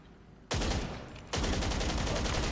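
Sustained magazine-dump gunfire in GTA 5 Online: a sharp onset of rapid, loud, continuous shots, then a brief dip and a second, even heavier stretch of automatic fire.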